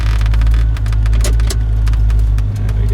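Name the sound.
V8 car pulling away in first gear without throttle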